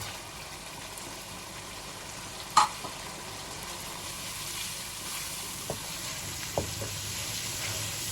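Chilli powder, turmeric, crushed red pepper and crushed coriander frying in oil in a pan, a soft continuous sizzle with a few sharp clinks from stirring, close but fairly quiet.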